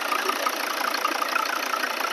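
A 2011 Volvo V60 2.0 D3 five-cylinder diesel engine idling steadily with a busy, slightly knocking mechanical chatter, heard close and unchanging for a couple of seconds.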